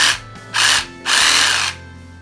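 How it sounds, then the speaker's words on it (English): A borrowed full-size cordless reciprocating saw, heavy and massive, is triggered close by in three short bursts of high buzzing motor noise separated by brief pauses, with the longest burst last. "I borrowed a full-size reciprocating saw."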